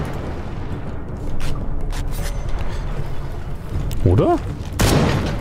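Gunfire and explosions from Shadow of the Tomb Raider, with scattered sharp shots and booming bursts, a whooshing sweep near the end, all under someone speaking German.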